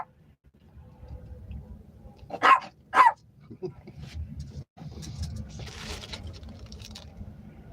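A small puppy lets out two sharp, close barks in quick succession over a low outdoor rumble, with some talking nearby.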